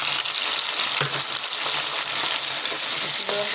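Spices and tomatoes frying in a pan, a loud, dense hiss of sizzling oil with occasional soft scrapes of stirring, close-up and continuous, with no talking.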